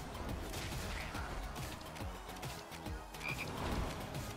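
Frog enemy croaking during a video game battle, repeated croaks standing out over a dense, busy game soundtrack with clatter and hits throughout.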